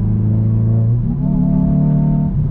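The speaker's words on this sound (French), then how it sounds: "C'est le fameux talon pointe qui se fait automatiquement." A 2022 Hyundai i20N on a circuit blips its engine automatically while downshifting. The close, loud engine drone jumps sharply in pitch about a second in, then settles and rises again just before the end.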